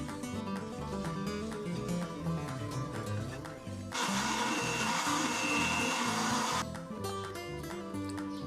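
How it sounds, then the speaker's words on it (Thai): A kitchen blender whirs as it purees pandan leaves with water, a steady motor drone that rises into a louder, harsher whine for a few seconds midway before settling back, with a musical backdrop running underneath. "ปั่นน้ำใบเตยจนละเอียดแล้วแยก่ากนะคะ"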